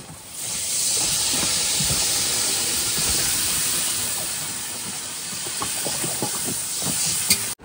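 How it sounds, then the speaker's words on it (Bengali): Water poured into a hot pan of curry with salt, turmeric and cumin powder: a loud, continuous sizzling hiss of steam that holds steady for several seconds with faint stirring crackles, then cuts off abruptly. "এবার দিয়ে দেবো জল।"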